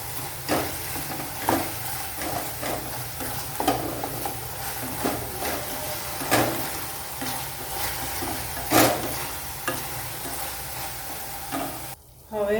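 Chopped vegetables stir-fry in a hot pan for Chinese veg fried rice, a continuous sizzle broken by regular scraping knocks of a spatula against the pan, with a short pause near the end.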